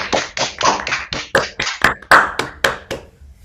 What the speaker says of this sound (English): So let's give Joseph a warm round of applause.